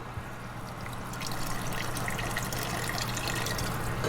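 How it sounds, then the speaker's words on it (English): Water poured into a pot of coconut stew with aromatics, a close, steady splashing pour with bubbly trickling that grows slightly fuller as the pot fills, heard alone without speech. "You want to essentially cover this with water to have it cook down and have a nice gravy"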